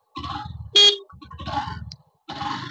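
A short, loud horn toot from a 2022 Honda Shine motorcycle sounds once against a backdrop of its running engine with brief pauses.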